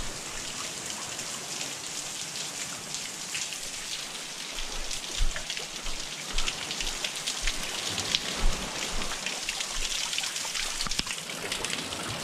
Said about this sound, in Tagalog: Grabe ba ulan ah.